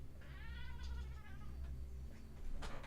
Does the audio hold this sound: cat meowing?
yes